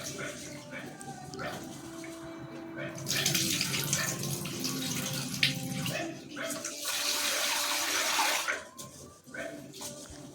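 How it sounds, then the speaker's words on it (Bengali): Rice is washed by hand under running tap water, a continuous splashing rush that swells in the middle and fades near the end, with faint background sounds. "চাল ধুয়ে নিই এখন"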